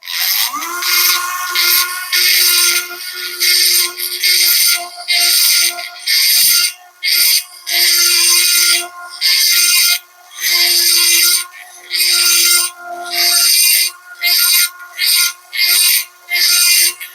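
A carbide burr grinds the cylinder ports of a Stihl MS461 chainsaw in loud, high, whining bursts that start and stop repeatedly, with brief pauses between passes and no talking.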